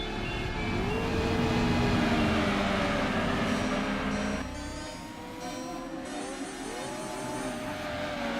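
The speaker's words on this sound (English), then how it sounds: "You can hear the Celica's distinctly interesting engine." A Toyota Celica GT-Four engine in the racing video game Gran Turismo 2 drones steadily with a whiny, rising and falling pitch as it revs, dropping in tone briefly midway before climbing again.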